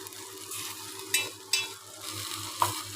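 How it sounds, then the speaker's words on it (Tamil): Tomato and onion sizzle in a pan while being stirred, a steady frying hiss broken by a few sharp utensil clicks and scrapes. "இந்த கிளறி விட்டு ஒரு ஒரே ஒரு நிமிஷம் மட்டும் மூடி வைக்கலாம்"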